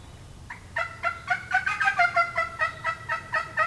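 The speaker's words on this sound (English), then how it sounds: "What, a gobble?" A wild turkey gobbles from across a road in a rapid, rolling burst of pulsed calls, moderately distant and clear outdoors, with no talking over it.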